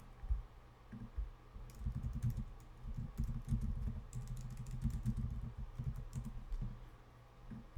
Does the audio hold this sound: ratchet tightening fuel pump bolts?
no